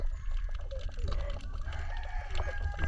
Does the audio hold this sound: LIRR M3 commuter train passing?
no